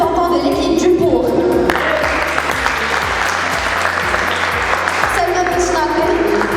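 A crowd at a French-language debate event applauds the team arguing in favour with loud, sustained clapping from many hands. Music with a steady thumping beat plays underneath throughout.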